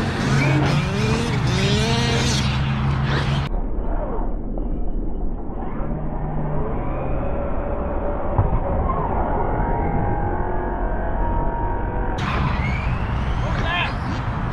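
Radio-controlled car driving hard at a park, its high-pitched motor whining and surging continuously with tire scrubbing and skids, loud and close throughout.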